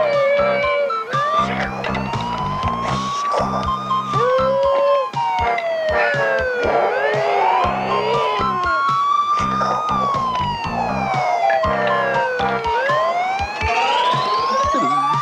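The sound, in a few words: toy ambulance siren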